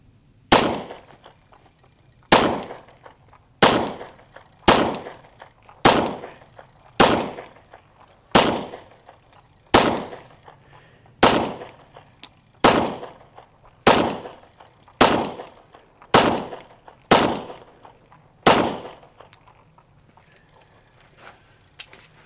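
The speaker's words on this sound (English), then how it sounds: "I'm gonna shoot the targets this time." A Ruger SR 40 pistol fires at targets in fourteen loud, sharp shots at an even pace of roughly one every one and a quarter seconds, each with a short echoing tail and quiet gaps between.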